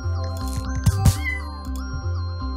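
A cat meows within a game, Cats are Liquid – A Better Place, drawn-out cries rising over a steady tonal music background, fairly loud and without talk.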